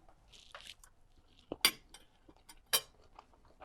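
A small knife clinks and scrapes against a plate while slicing through a French omelette, giving a few sharp metallic taps among soft, quiet cutting sounds.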